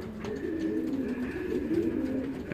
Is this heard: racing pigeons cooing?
yes